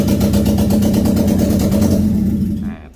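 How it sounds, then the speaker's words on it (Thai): A loud, close Honda car engine with no exhaust pipe starts and runs with a harsh, throbbing unmuffled rumble, then cuts off abruptly near the end. "ท่อไอเสียไม่มีนะครับเวลาสตาร์ทเครื่องนะครับเสียงจะดังนิดนึงนะครับเสียงท่อจะดังนะครับ"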